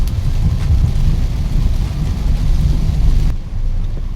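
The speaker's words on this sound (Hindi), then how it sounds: "बारिश वाकई सही में स्टार्ट हो गई इधर, देखिए कितनी तेज हो रही है" Dense, steady roar of heavy rain, heard from inside or near a vehicle driving through the downpour, loud and close with low rumbling, cutting off abruptly near the end.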